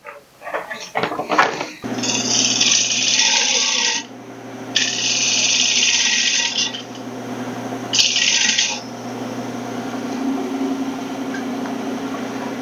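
Wood lathe spinning a cracked wooden piece while it is turned, a steady motor hum broken by bursts of bright scraping hiss from the cutting tool, close and loud, in three main passes.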